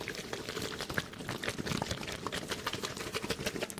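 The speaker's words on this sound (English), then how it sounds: "Water bags are the best. They sound so good." Squeezed water bags squelch and slosh close up in a dense, continuous wet churn of small gurgles and crinkles, steady and moderately loud throughout.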